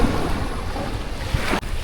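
Waves break and slosh on the Padma River in the rainy season, beside a beach lined with boats. The wash is close and continuous, with wind buffeting the microphone throughout.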